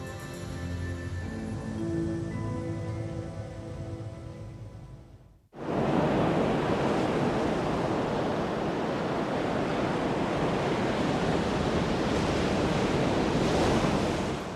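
Ocean surf with foam-fringed waves washes in as a loud, continuous broadband roar after a tonal musical passage cuts off abruptly partway through.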